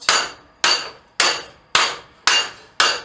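Six evenly spaced, sharp metallic hammer blows on hot steel over a swage block, forging a bowl, each ringing out briefly before the next strike.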